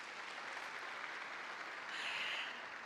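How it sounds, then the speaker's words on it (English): A conference audience at a tech summit applauds steadily, a soft, dense wash of clapping heard from a distance that swells slightly near the end. "Another round of applause for the great man."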